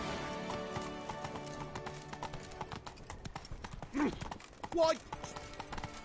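Hooves of the horse Roach galloping in a PS4 video game, a quick steady clip-clop rhythm under a voice talking, with a couple of louder thumps near the end.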